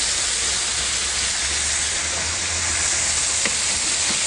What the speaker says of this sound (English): They're in there just frying away.